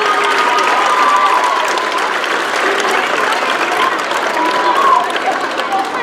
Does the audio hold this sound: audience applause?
yes